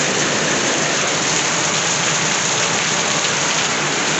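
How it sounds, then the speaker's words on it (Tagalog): Heavy rain pours down in a dense, steady roar, loud and close, with no other sounds standing out, falling on a shelter overhead. "Ayan na ang ulan. Ayan ang ulan, ang lakas."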